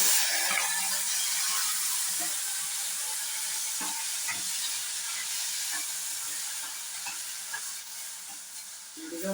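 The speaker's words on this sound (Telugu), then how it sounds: "కొంచెం నూనె వేసుకుని ఈ బెల్ పెప్పరును ఈ టమాటాలను కలిపి వేయించాలి." Bell pepper and tomatoes fry in a little oil, giving a steady close sizzle and hiss throughout with a few faint stirring clicks and no talk.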